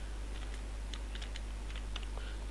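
Typing on a computer keyboard with the Enter key pressed, a handful of light scattered key clicks close up over a steady low electrical hum, no voices.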